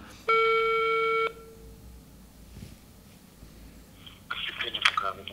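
A steady electronic telephone tone rings for about a second as a studio places a call, followed by quiet line noise and then a burst of crackly, noisy sound near the end.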